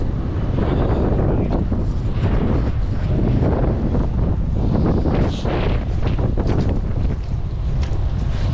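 Strong wind roars continuously into the microphone outdoors, loud and buffeting, with no pauses over the whole stretch.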